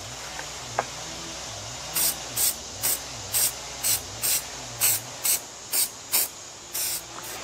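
Truck bed liner coating is sprayed onto a suspended object in about a dozen short, sharp hissing bursts with brief pauses between them, close and fairly loud over a low background hum.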